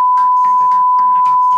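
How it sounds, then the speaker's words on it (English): A loud, steady censor beep tone runs continuously over speech, with a voice talking underneath. "Can we beep that every time you say it?"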